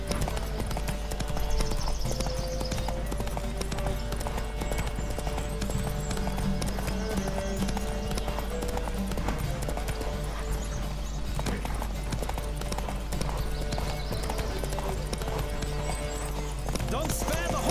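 Horse hooves clip-clopping at a gallop during a horse race in The Witcher 3, a steady rapid rhythm running throughout under game music and spoken dialogue.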